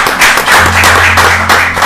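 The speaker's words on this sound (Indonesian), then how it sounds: "Tepuk tangan dulu dong" A crowd at an event honoring a deputy regent breaks into loud, dense, steady clapping up close, with a faint low hum underneath and no talk.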